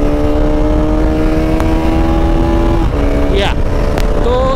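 A BS3 Bajaj Pulsar RS200 motorcycle engine runs loud and close, its steady drone shifting pitch as it moves through the gears, under an ongoing rumble.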